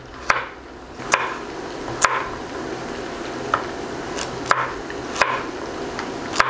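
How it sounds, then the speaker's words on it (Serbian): Knife chopping carrots into large chunks on a board, a series of single sharp thuds spaced roughly a second apart, fairly close, over faint background noise. "nastavljam dalje sa seckanjem povrća, 2 šargarepe i seći ću na malo onako krupnije komade"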